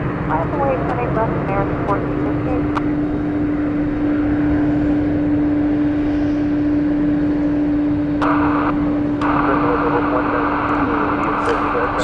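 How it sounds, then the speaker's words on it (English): An MD-11 jet airliner on the runway at DFW airport, a steady broad engine roar with a sustained low whine throughout, heard from a distance under continuous talk. "this is going to be taking off here on runway 18 left"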